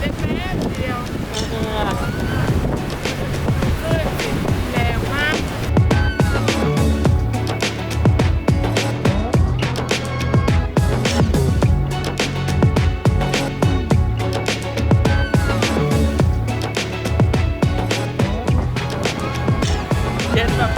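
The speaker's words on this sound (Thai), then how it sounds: "ลมโคตรแรง" Strong wind buffets the microphone at a seaside beach at Hat Nam Sai, Sattahip, Chonburi, a steady loud roar and rumble throughout, with people talking over it.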